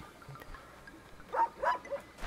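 A few short, yippy dog barks from a video game dog in Superbrothers: Sword & Sworcery EP come in quick succession over a quiet background, fairly faint.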